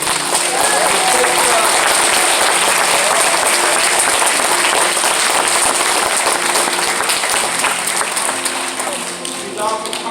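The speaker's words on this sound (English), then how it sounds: "I need you to let go of your neighbor's hand so you can clap for us." Church congregation applauding at the end of a service, dense sustained clapping filling the room for about ten seconds and tapering slightly at the end, with a voice faintly underneath.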